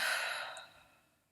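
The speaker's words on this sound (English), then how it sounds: "take a deep breath in and out" A single slow, deep exhalation of breath, close and breathy, fading steadily away to near silence.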